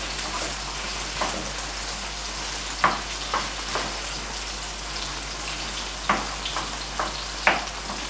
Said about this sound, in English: So then you stir everything together.